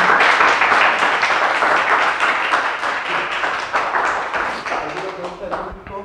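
A seated audience applauds after a mathematics talk, producing steady, fairly close clapping that runs throughout and tapers slightly toward the end, with some voices mixed in.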